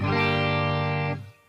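A sustained, bright electric guitar chord, pitched higher by an electronic capo, rings out loud and full, then cuts off abruptly near the end.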